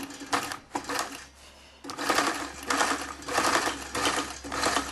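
A sewing machine topstitches the waistband of an unlined skirt, a close, rapid mechanical whirring in bursts with a short pause before it runs steadily again.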